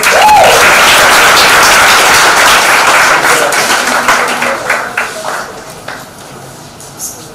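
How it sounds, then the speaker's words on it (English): Audience applause for award winners at a university academic conference, a loud, dense wash of clapping that gradually thins and fades toward the end, with a brief voice near the start. "More claps, please."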